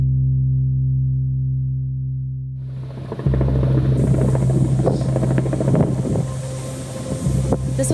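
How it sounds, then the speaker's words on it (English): Helicopters flying overhead in India, a loud steady low rotor drone with wind buffeting the microphone, swelling as the craft passes above, with no talk. "You can hear the helicopters."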